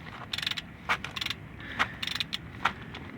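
A ratchet clicks in rapid bursts while breaking loose the rear differential drain plug on a Ford F53 motorhome, a series of close, crisp pawl ticks separated by short pauses and a few sharper knocks.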